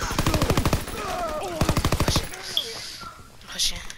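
A PPSh submachine gun fires in a video game in two rapid, rattling full-auto bursts, with a voice talking briefly between them.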